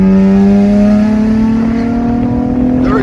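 A 2009 Honda Accord V6 coupe with a straight pipe exhaust and electric cut-out roars past, a loud sustained engine drone that climbs steadily in pitch as it accelerates close by.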